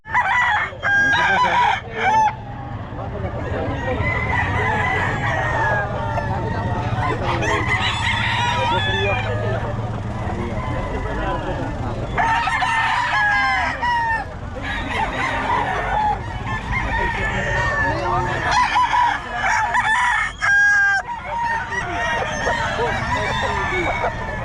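Roosters crow repeatedly at a chicken market in Bocaue, with a Kelso-breed gamecock among them, loud near calls alongside clucking and other fowl, over background chatter and bustle.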